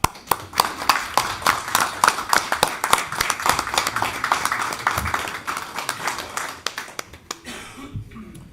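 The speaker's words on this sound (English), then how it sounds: "I would like to just give a round of applause just for their hard work." A crowd applauds at a town council meeting, dense clapping sustained for about seven seconds and then tapering off, with a few voices mixed in near the end.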